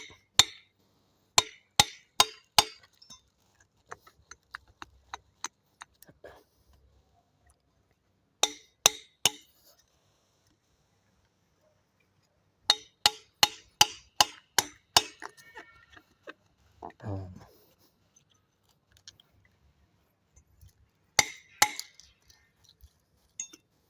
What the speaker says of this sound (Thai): ตอกเข้าต้นแม่มันนะได้เลย